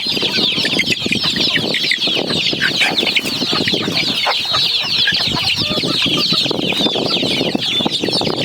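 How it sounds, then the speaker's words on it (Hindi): Aseel chickens and chicks fill a farm pen with dense, constant clucking and peeping, many birds close by with no break across the stretch. "ऐसा थोड़ा सा बदमाशी करते हैं ये असील मुर्गे ना, चूज़ों को चोंच मारते हैं"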